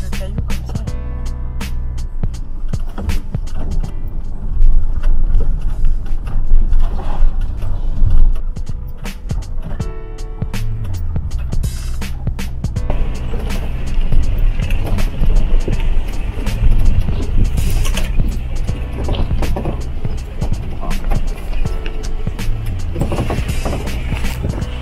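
A Mercedes Sprinter 4x4 van lurches along a rocky track, its engine droning steadily under constant rattling, knocking and crunching from stones and the bouncing cabin, loud and close throughout the whole stretch.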